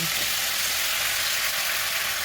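Spice paste hits hot oil in a pan while prawn malai curry is being cooked, giving a steady, loud, broadband sizzle that holds evenly for the whole stretch with no talking over it.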